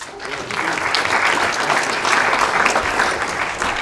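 A conference audience at PrintHustlers Conf 2019 applauds as the speaker is introduced; thick, sustained clapping, loud and steady from start to finish.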